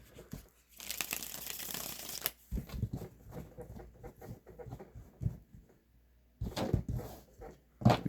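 Tarot cards being shuffled in repeated papery riffles and soft slaps, a dense burst early then lighter handling, fairly close and alone with no talk.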